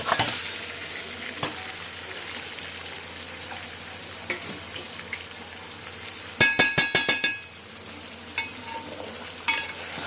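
Marinated fish pieces frying in a pan, a steady quiet sizzle throughout, with a quick burst of bright metallic clinks about two-thirds of the way in and a few scattered taps, no one speaking.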